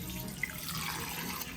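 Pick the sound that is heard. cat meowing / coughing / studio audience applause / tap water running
tap water running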